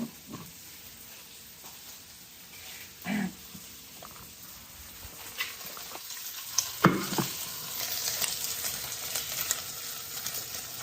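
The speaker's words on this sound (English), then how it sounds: "that sizzling you hear in the background are some sausages that I sliced up and I have cooking in the pan" Sliced sausages sizzle and crackle in a frying pan, a steady hiss with scattered pops and a few stirring scrapes, fairly close and alone with no talking.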